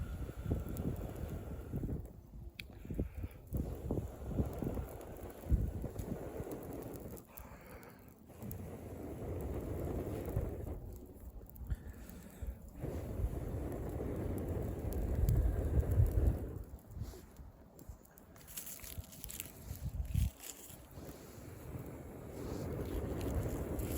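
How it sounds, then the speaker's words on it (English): Someone blows on a campfire in winter weather to get it going: irregular, breathy, rumbling gusts of air close to the microphone, repeating in bursts with short quieter gaps between them. "Takes a lot of blowing to get going."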